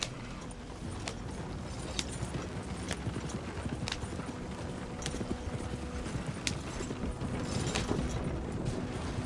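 Horse hooves gallop along a road in Red Dead Redemption 2, a steady, rhythmic clip-clop of hoofbeats with a faint mechanical rattle underneath that carries on throughout the ride.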